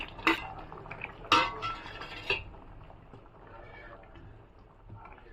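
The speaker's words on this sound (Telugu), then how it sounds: "ఇప్పుడు పులుసు మరుగుతున్నప్పుడు మనము ఇందులోకి పకోడీ వేసుకోవాలి" Pakodi fritters go into a simmering drumstick tamarind stew, with a few sharp clinks of a metal utensil against the pot followed by faint stirring and low background noise.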